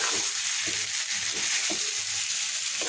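Food sizzling in a hot pan while a utensil scrapes and stirs in a loose repeating rhythm, close up and without speech.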